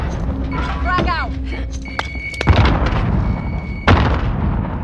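A frag grenade goes off in a first-person shooter, a sharp heavy boom followed by a second blast, loud and close, with game gunfire and someone talking excitedly over the action.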